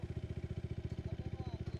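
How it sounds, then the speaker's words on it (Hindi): A Hi Speed SR 150 Cafe Racer motorcycle engine idling close by, a steady rapid single-cylinder thump with even pulses, a faint voice under it. "ये इस बाइक की आवाज़ है,"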